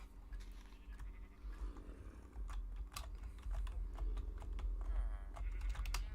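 Faint Minecraft sheep bleats sound over a low hum, mixed with scattered keyboard clicks and typing.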